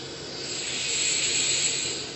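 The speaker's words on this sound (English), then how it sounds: "that's the sound of precision ball bearings" A free-spinning yo-yo whirs on precision ball bearings, giving a faint, smooth, steady hiss that swells slightly and then fades, with no voices.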